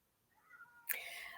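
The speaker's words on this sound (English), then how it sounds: "that's a cat of mine howling in the background." A cat lets out a brief rising howl, then a louder breathy cry cuts in near the end; short and fairly faint.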